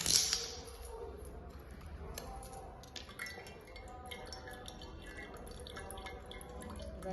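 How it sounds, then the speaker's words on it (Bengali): Water from a freshly cut green coconut trickles and drips into a pot during a Nil Puja ritual, soft close-up splashes and drips running steadily and quietly throughout. "ডাব কেটে সেই ডাবে জলটা ঘটিতে দেব।"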